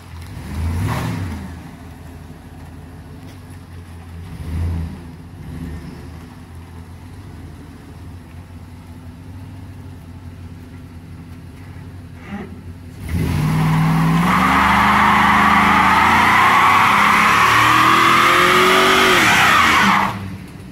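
A modified Cleetus and Cars build revs up on a test drive, loud engine roaring and climbing steadily for several seconds after quieter idle and brief blips, with possible tire squeal.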